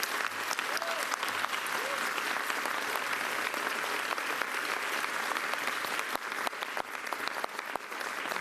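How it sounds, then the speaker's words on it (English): Sustained audience applause for advocates at a mayoral press conference, a dense, loud wash of many hands clapping continuously, with a faint voice briefly audible beneath it. "let's give them a big round of applause right now"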